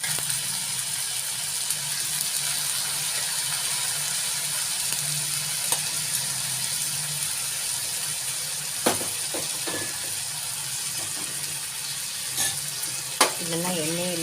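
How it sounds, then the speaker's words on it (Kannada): Tomatoes fry in oil for avarekalu palya, giving a soft, steady sizzle throughout, with a few faint clinks and scrapes of stirring near the end. "ಇದನ್ನು ಎಣ್ಣೆಯಲ್ಲಿ 1 ನಿಮಿಷ ಬಾಡಿಸ್ಕೊಳ್ತೀನಿ"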